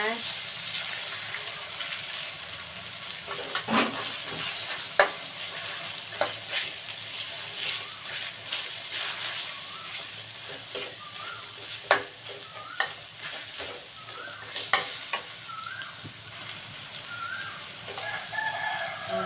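Eggs stir-frying in a pan with salted preserved radish (chai po), with a steady sizzle and scattered sharp scrapes and taps of a utensil on the pan over about twenty seconds, plus faint background voices.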